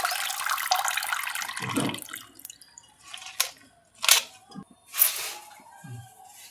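Gongura greens are washed in a basin of water, starting with a rush of running water and then a few separate splashes and drips. The sound is close and fairly soft, with no talking.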